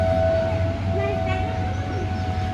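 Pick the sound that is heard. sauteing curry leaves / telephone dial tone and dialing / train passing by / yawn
train passing by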